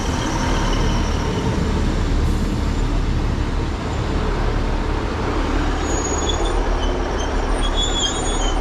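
A diesel passenger train, unit 15273, rolls into a West Yorkshire station on the Pontefract Line with a loud, steady rumble and faint high squeals from the wheels, continuous throughout with no talking.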